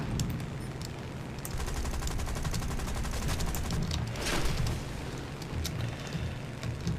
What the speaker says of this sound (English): Something's shooting at us very rudely